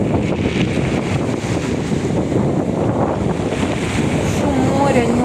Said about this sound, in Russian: Шум моря не убрала.